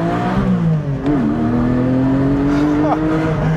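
A Porsche 718 Spyder's engine climbing toward 8,000 rpm, a loud sustained rising engine tone heard from inside the car, with one brief dip as it shifts before pulling up again.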